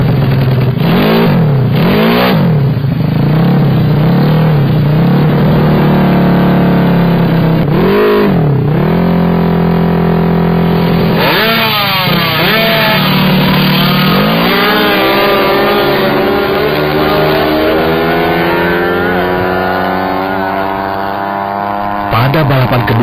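Several 150cc motorcycles accelerate hard in a street race, with repeated rising engine revs and gear shifts sweeping up in pitch, loud and close, while a voice talks over parts of it.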